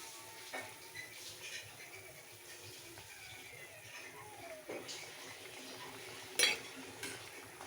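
Upma is stirred in a pan on a gas stove, with soft scraping and light clinks of a utensil over a quiet sizzle, while someone talks over it.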